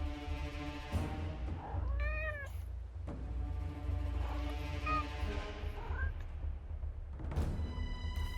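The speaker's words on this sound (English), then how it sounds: "Is that a cat?" Several drawn-out meows from a cat in the video game Forspoken, rising and falling over a steady low rumble of ambient game sound and music, with a couple of short cries near the start and middle.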